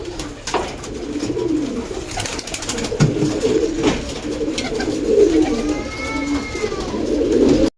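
Pet pigeons being fed probiotic-mixed food coo continuously at close range, with soft, rolling calls layered over a busy background of shuffling and handling noises.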